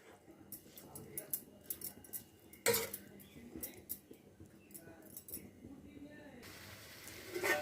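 A utensil stirring small fish in a pan for an Andhra-style curry, making scattered metallic clinks and scrapes in quiet bursts, with one sharper knock partway through.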